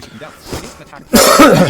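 A single sharp cough bursts out loudly and close, after a stretch of quiet, muffled sound.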